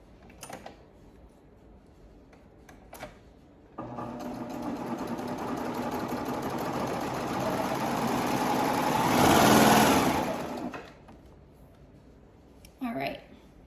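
A sewing machine stitches a crotch seam on a cloth diaper, running in one steady whirring burst of about seven seconds that swells toward the end, with quiet handling sounds before and after.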